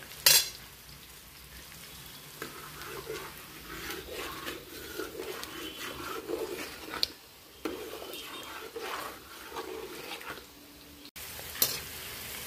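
Beans and carrots sizzle and fry in a pan, a steady crackle broken by stirring and occasional clinks of a utensil against the pan.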